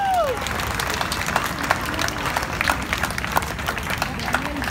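An audience at a St. Inez Church event in Goa applauds to welcome a singer, a steady crowd clapping at moderate distance, with faint voices and cheering underneath.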